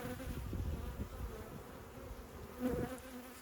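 Honeybees from a swarm buzzing close by, a soft, steady droning hum with faint wingbeat pulses, quiet and alone without voices.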